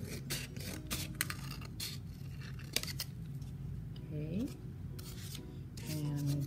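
Scissors snipping through a green paper plate during a craft, a series of quiet irregular cuts and rasps with soft rustling, faint and close.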